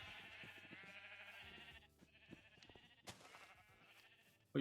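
Sheep in the video game Minecraft bleat in several wavering calls, one after another with short gaps, fairly quiet and with no one talking over them.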